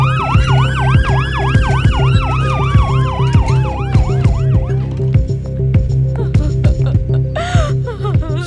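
An ambulance siren wails loudly, sweeping up and down repeatedly, close by, over a steady engine hum with sharp rhythmic clatter running throughout.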